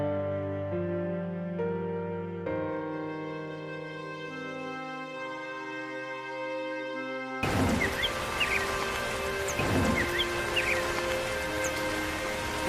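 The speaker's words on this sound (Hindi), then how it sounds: "अरे बहू, ये तो खूब बारिश हो रही है।" Heavy rain pours down in a cartoon about a poor crow family, a dense broadband hiss that starts abruptly after soft music and continues steadily with a few louder bursts.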